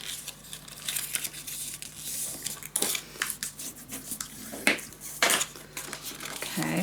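Paper being creased and folded by hand for a scrapbook travel suitcase, close and fairly quiet, with crinkling rustles and a few sharper crisp crackles scattered unevenly over a soft background hiss.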